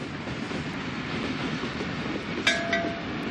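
A Pakistani train rumbles along the rails with a steady roar, and a short metallic squeal rises briefly near the end.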